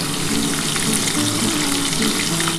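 Pieces of small phasa (dhela) fish fry in hot oil, giving a steady, dense, close-up sizzle that holds evenly for the whole stretch and cuts off abruptly at the very end.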